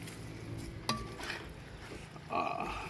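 Onions and oil stirred in a pot for chicken jackfruit biryani, a steady soft frying hiss with scraping strokes and a sharp clink partway through, close up and without talk.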